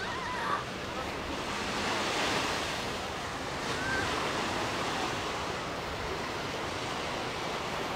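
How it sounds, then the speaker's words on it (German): Surf washing steadily onto a hot, crowded beach along the promenade in Side, Turkey, a continuous broad wash of breaking waves with some wind buffeting the microphone, no clear speech. "Das ist dann jetzt aktuell Strand und Promenade in Side bei 37 Grad."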